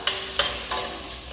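Diced calabresa sausage hits a heated pan three times, each drop bringing a short burst of sizzling that fades into a steady low frying hiss.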